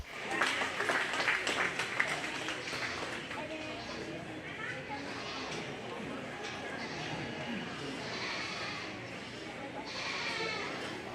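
Faint audience applause ripples through the ring at a county fair goat show, a soft steady patter running underneath an announcer's voice.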